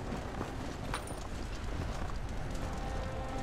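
Galloping horse unleashed as a special attack in the video game Wo Long: Fallen Dynasty, a dense, steady rumble of hoof-like clopping that fills the whole stretch at constant loudness amid game noise.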